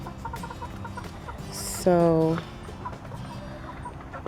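Chickens in a coop made from a converted poly tunnel, with soft scattered clucks and one loud, sharp squawk in the middle, while a person speaks briefly nearby.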